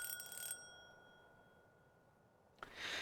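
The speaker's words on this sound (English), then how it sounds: "leaned forward and rang the doorbell" A single bright two-tone doorbell chime rings out and fades over half a second, followed by quiet until a brief rustle near the end.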